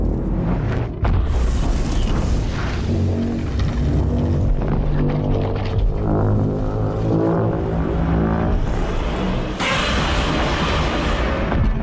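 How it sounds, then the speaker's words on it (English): A huge, sustained, roaring blast from a Godzilla film as the creature bursts like an atom bomb, a dense and loud rumble that keeps up for about twelve seconds and grows brighter near the end. "he's about to explode like an atom bomb"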